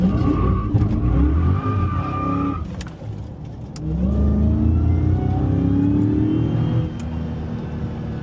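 A car engine revs hard and accelerates at night in traffic, first with a rising high whine, then after a short dip a deep, loud roar that climbs steadily, with no talking over it.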